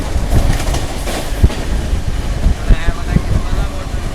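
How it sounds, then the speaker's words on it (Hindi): The Jallianwala Bagh Express (12380) runs at high speed between Jalandhar and Delhi, heard from on board as a loud steady rumble with rhythmic wheel clicks and clatter, wind noise over it. "ताबड़तोड़ रफ्तार में दौड़ रही है ट्रेन हमारी"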